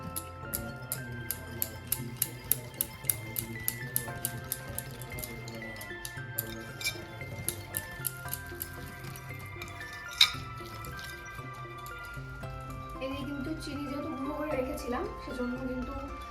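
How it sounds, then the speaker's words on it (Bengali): Cake batter being stirred with white cooking oil in a bowl for a Christmas cake, giving a steady run of quick clinking, ticking strokes over tonal background music, the taps thinning out toward the end. "এবার আমি ভালো করে মিক্স করে দিচ্ছি"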